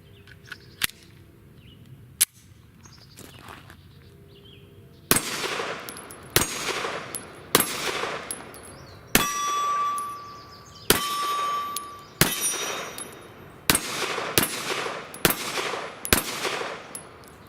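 A Sig Sauer P365 pistol fires Remington hollow points, a string of about ten sharp, loud shots at irregular intervals, each followed by a brief ringing tail, with faint clinks between them.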